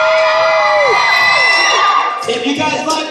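A high school crowd at a dance performance cheers loudly, with piercing whoops and shouts rising and falling, then a burst of mixed yelling, all close and continuous.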